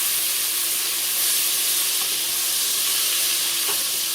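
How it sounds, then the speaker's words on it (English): Chopped onion sautéing in butter in a pot over medium-low heat, giving a steady, even sizzle with a soft hiss throughout and no talking. "Add a 1/4 cup of onion in there and saute that."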